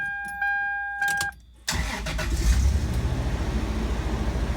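A Toyota 4Runner with a swapped donor engine, transmission and wiring harness cranks briefly and then catches, settling into a steady, close idle that runs on to the end.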